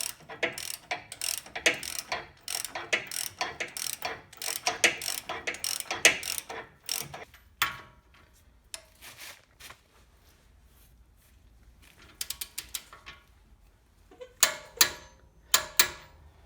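A ratchet wrench clicks rapidly and steadily while torquing a steering pin on a Jeep JK front suspension, then pauses and resumes with a few short, close bursts of ratcheting.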